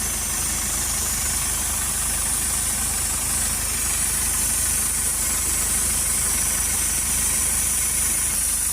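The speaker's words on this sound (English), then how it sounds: "so with the vehicle running, I can hear air escaping" A Toyota ProAce 2.0 diesel engine idles with a loud, steady, close low rumble and even hum, a faint hiss of escaping air running over it throughout.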